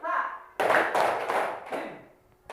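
Hand claps in a classroom clapping game, several bursts of sharp clapping in a loose rhythm from a group of pupils, with a teacher's voice briefly at the start.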